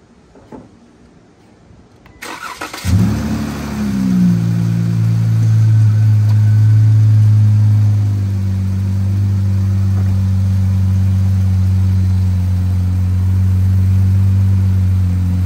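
A Dodge Charger or Challenger V8 engine cranks, fires loudly, surges, then settles into a deep, steady rumbling idle, recorded up close with no speech.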